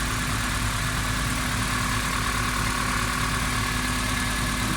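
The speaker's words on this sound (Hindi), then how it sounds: "गाड़ी स्टार्ट है, बिल्कुल स्टील है, स्मूथ है" A car engine idles steadily after brake and drum repair work, a continuous even hum with a constant low tone and no revving or voices.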